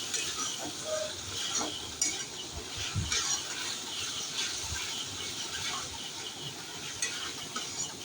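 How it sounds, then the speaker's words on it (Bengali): A spoon scrapes and stirs spice paste mixed with ground white sesame in a pan while cooking paneer dalna, giving steady close scraping and soft clinks over a faint sizzle. "একটু নেড়ে নেব তিল বাটা দিয়ে।"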